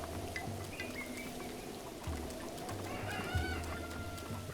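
Chicken clucking in the video game Zelda Breath of the Wild, a few short clucks and calls over steady rain and low ambient game sound, fairly faint and with no talking.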